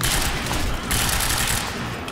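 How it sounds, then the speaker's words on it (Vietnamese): Rapid automatic gunfire in the video game Quantum Break, a loud, unbroken burst of shots with booming impacts that fills the whole stretch without pause. "nó bắn liên tục với lại nhanh."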